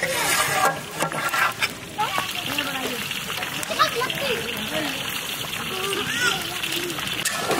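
A large pot of chicken leg korma, enough for 250 pieces, is stirred outdoors for a village feast: continuous wet sloshing and scraping of thick gravy, steady and fairly close, with voices talking over it.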